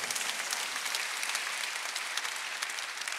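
Congregation applauding during a Korean church worship service, dense steady clapping from many hands filling the room without pause.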